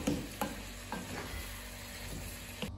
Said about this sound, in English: Let's just mix some of the gnocchi in through that beautiful sauce.